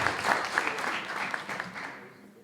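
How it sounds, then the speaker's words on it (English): An audience applauds during an interview, a dense patter of clapping that starts strong and fades out toward the end, with voices mixed in. "A round of applause for that."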